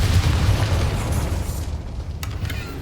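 A Confringo spell in the video game Hogwarts Legacy bursts in a loud, close explosion with a heavy low rumble that fades away over a few seconds.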